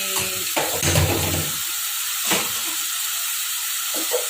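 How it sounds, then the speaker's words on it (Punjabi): Onion, garlic, ginger, chili and tomato fry together as a tempering, giving a soft steady sizzle and hiss broken by a few louder clattering stirs near the start and middle. "ਆਪਾਂ ਹੁਣ ਭੁੰਨ ਰਹੇ ਹਾਂ ਤੜਕਾ ਇਹਦੇ ਵਿੱਚ ਮੈਂ ਪਾਇਆ ਵਾ ਪਿਆਜ਼ ਲਸਣ ਅਦਰਕ ਮਿਰਚ ਤੇ ਟਮਾਟਰ"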